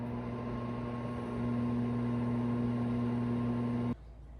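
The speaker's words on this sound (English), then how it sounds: "We're just going to stick this back in the microwave to melt the cheese." A microwave oven hums steadily while melting cheese on a twice-baked potato, a constant close drone that rises slightly partway through and cuts off abruptly near the end, with no talking.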